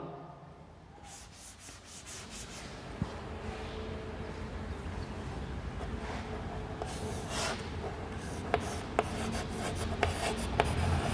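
A teacher hand-writes the next English grammar question during a lesson, producing steady scratchy strokes that rub and tap at moderate, even volume, with a few sharper ticks as the writing finishes. No one speaks.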